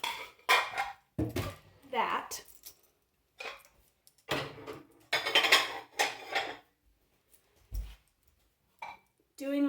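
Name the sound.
clean dishes being put away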